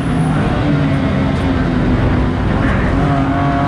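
Race car engine at full throttle on track, a close, loud, steady roar that holds without a break from start to end.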